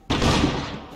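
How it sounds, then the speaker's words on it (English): A stun grenade in the video game Rainbow Six goes off as a single sudden burst, loud and close, then decays over a fraction of a second. "I'm gonna see if I can chuck a stun grenade all the way there"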